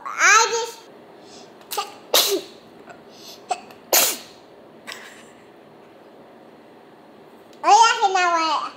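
A person sneezes sharply at a home dinner table, followed by scattered short exclamations, a cough-like burst and a voice babbling and laughing nearby.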